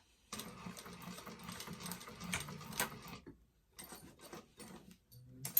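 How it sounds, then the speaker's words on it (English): A sewing machine chain-stitches pieces of a leather bifold wallet together, running in fast mechanical bursts with brief pauses between them, close and clear with no talking. "I'm just chain stitching all of these together just so I don't have to keep breaking my thread"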